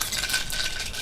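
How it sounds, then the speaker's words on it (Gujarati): Mustard seeds, asafoetida and curry leaves sizzle and crackle in hot oil for a moringa kadhi tempering, a close, continuous bright frying hiss with light stirring. "આપણે વઘાર કરવો છે કઢીનો"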